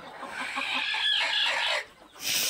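Several free-range country hens sitting to lay eggs in a poultry shed cluck and murmur in short repeated bursts close by, with a brief pause before another burst of clucking.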